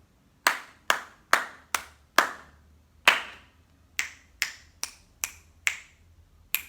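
Sharp single claps beating out the Lucy Locket rhythm in a music lesson: a run of five evenly spaced claps, a pause, then a quicker run of six or seven, close and crisp with nobody talking.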